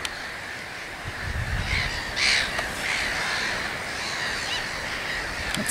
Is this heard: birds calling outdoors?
yes